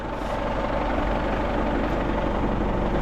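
Old engine on a roughly 60-year-old square baler that sat unused for years, running loudly and steadily up close as a continuous rough rumble with no speech.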